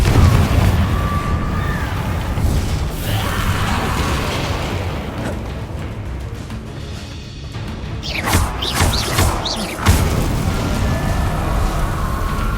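A Confringo blasting spell in Hogwarts Legacy, booming fiery blasts over a loud continuous game soundscape, with a sharp burst and crackle partway through.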